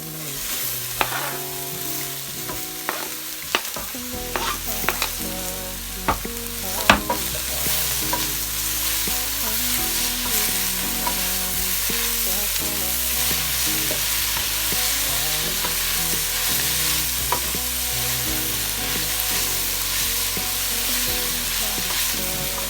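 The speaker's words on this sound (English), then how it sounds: "So now we're just gonna add in the spinach." Spinach fries with garlic and onion in a pot for broccoli soup, a steady sizzling hiss lasting throughout, with a few sharp stirring knocks early on and nobody talking.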